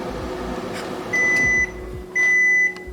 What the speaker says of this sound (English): I just defrost it in the microwave for a little bit.